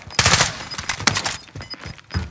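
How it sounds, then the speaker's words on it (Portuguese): Rapid bursts of gunfire crack in quick succession, loud and close, with short pauses between volleys, from combat in the video game Call of Duty: Warzone. "Tem um tiro."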